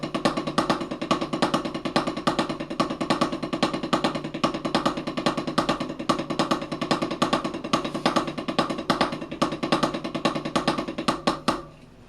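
Close, loud drums play a rapid, unbroken triple paradiddle rudiment with accents falling on the downbeat and upbeat, the strokes racing evenly for about twelve seconds before stopping abruptly.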